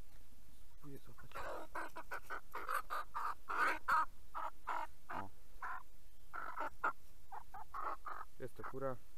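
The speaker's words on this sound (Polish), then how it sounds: "Jest to kura." A Brahma hen clucks in a steady run of short, close calls over about nine seconds, with a few rising squawks and a brief pause midway, and no talk over it.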